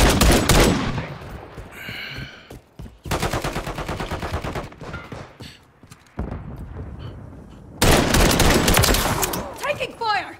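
Rapid automatic gunfire in Call of Duty: Modern Warfare 3, with long loud bursts separated by short gaps, close and dominant, with game sounds between the bursts.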